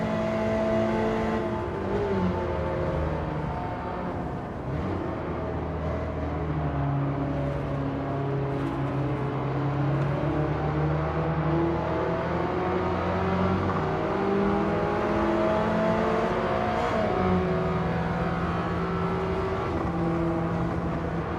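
A race car engine in a Gran Turismo 7 or Forza Motorsport video game roars steadily and loudly throughout, its pitch rising and falling with revving and gear shifts.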